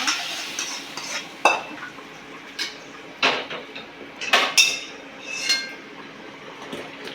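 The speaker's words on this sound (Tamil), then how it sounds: "தால்ச்சாவுக்கு தாளிப்பு போட்டோம்" Whole spices being tempered in a pan for mutton dalcha, with a soft background sizzle broken by several clear clinks and scrapes of a metal spoon stirring against the pan, loud and close, with no talking.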